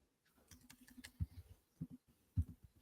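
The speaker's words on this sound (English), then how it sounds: "He's typing." Computer keyboard typing in a short burst of quick, light key clicks followed by a few heavier, separated thumps, moderately quiet with no talking over it.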